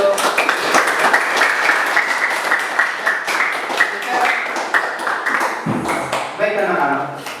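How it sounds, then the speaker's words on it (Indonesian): A classroom of students claps for a student group after their discussion, with steady scattered applause and voices heard throughout. "Silakan tepuk tangan untuk"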